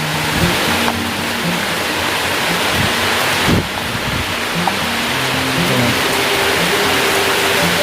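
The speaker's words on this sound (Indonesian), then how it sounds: "dan hujan pula" Steady rain pours down around a village chicken coop at dusk, a dense, continuous hiss spread evenly through the whole stretch, with faint low knocks and rustles from the pen underneath.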